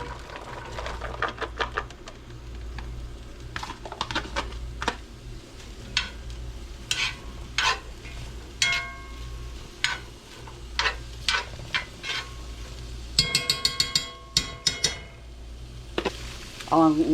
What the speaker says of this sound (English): we're gonna go ahead and put in the onions with it